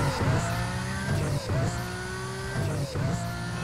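A race car launches in Need for Speed Most Wanted, its engine revving hard and climbing through repeated gear shifts, loud and close, with tire noise under the roar.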